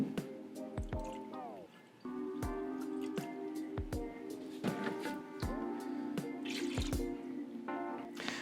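Distilled water poured into a smaller beaker during liquid soap making, with gurgling splashes and drips close by, the flow changing pitch as the vessel fills and a few brief clinks alongside.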